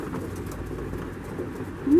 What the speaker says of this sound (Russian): Это птенец голубя, подрос уже.